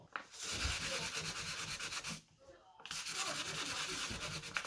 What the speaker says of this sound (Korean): 다시 사포로 샌딩 하고요.